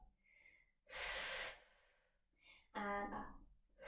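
Loud breaths in and out during a core workout of toe taps and leg movements, two strong broadband rushes of air separated by a pause, with a softer voiced exhale at the end.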